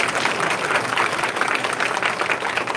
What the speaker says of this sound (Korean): 다시 한번 박수 좀 주세요.